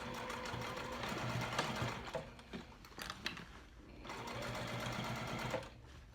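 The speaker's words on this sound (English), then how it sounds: "I'm going to start on one of my seams on the side, and I'm going to sew at a 1/2 inch seam allowance" A sewing machine runs steadily, stitching a side seam on a canvas backpack at a half-inch seam allowance, with brief pauses and the motor resuming close and loud on its own.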